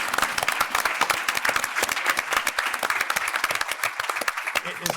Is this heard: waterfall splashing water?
no